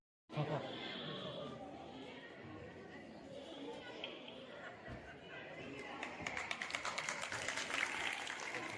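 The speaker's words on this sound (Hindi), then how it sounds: "तालियां बजाते रहे बच्चे" Children clap and a crowd chatters at a government school's joint annual function in Mandrela, a steady mass of applause and talk throughout, with sharper clapping picking up toward the end.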